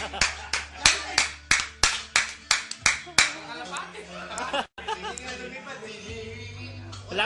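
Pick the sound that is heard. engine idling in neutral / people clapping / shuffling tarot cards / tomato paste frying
people clapping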